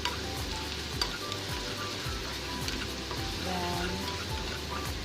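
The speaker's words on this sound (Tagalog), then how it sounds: "i-fry natin ang ginger and then ang garlic para mabango" Ginger and then garlic frying in hot oil for Chinese-style steamed fish give a steady close sizzle, with occasional stirring scrapes and small pops throughout.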